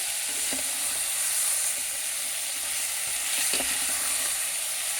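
Spiced potato pieces are stirred through a hot pan, a steady bright sizzle running throughout with a few soft scraping strokes of the spoon, close and alone with no voices.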